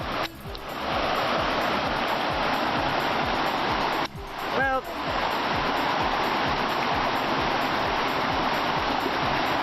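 A vast river rushes through a ravine in Malaysia, a loud, steady roar of flowing water filling the whole clip, with a brief voice cutting in near the start.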